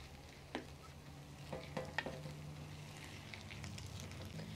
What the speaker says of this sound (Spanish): Y vamos a menearle para que revolver bien las rajas con el jitomate.